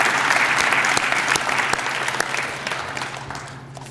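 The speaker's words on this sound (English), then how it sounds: "Can I get a round of applause for all 4 of them?" A breakfast audience gives a sustained round of loud, dense applause for four student scholars, clapping steadily and then gradually tapering off.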